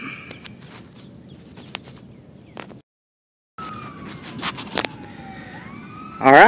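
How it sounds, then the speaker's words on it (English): Wailing police sirens rise and fall in the distance, with a gap of near silence midway and rustling, footstep-like noises nearby. "as you can tell with the sirens in the background"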